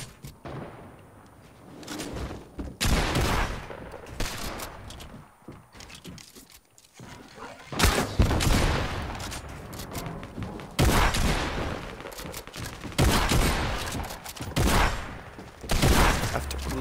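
Video game gunfire comes in loud, irregular bursts of shots separated by short quieter gaps, with some movement sounds between volleys.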